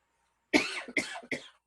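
After a brief silence, three close coughs come in quick succession, each sharp at the start and trailing off, loud against a quiet background.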